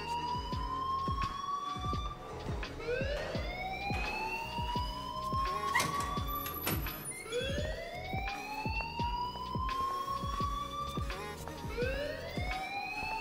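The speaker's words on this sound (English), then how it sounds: "please turn off that alarm since that's your job" A loud school alarm in the video game Life Is Strange, a repeating wailing siren that sweeps upward in steady cycles of about four seconds and keeps going without a break, with no talk over it.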